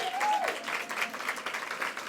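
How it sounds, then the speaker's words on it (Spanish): Audience at a literary evening applauding, a steady patter of many hands clapping at moderate volume for a couple of seconds, with a brief voice at the start. "Otro aplauso."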